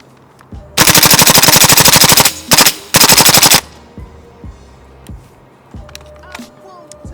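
A PTS Mega Arms MKM LM4 airsoft gas blowback rifle empties a full magazine in loud rapid full-auto bursts, a long string, a short burst and another string, then lock-back and quiet handling clicks.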